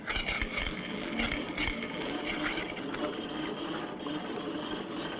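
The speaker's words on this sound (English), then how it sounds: "But if I rotate more quickly still, the steel ball will become a rack and pinion motor." A steel ball spins fast around a dish, driven as a rack and pinion motor by a rotating magnetic field, giving a steady loud whirring rattle with a continuous buzzing drone throughout.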